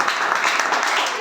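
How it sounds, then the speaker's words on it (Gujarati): Applause from an audience of schoolchildren and teachers welcoming a speaker at a school Teachers' Day event, a steady wash of many hands clapping at even loudness throughout. "જોરદાર તાળી સાથે આપણે સ્વાગત કરીએ."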